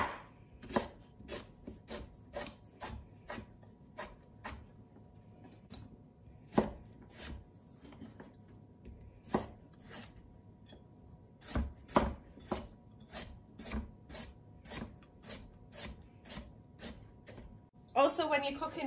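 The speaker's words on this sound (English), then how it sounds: "Parsnips cook quite quickly compared to carrots, so I'm not too worried about these guys cooking." Parsnips being sliced with a knife on a cutting board in a home kitchen, a steady series of crisp, close chopping taps with brief pauses, under soft talk.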